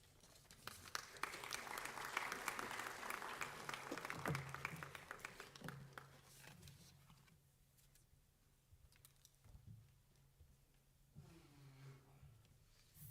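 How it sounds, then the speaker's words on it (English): An audience at an international youth forum on SDGs and human rights applauds a dignitary with dense, loud clapping that swells early and then thins to scattered claps. "A big round of applause to Her Excellency one more time"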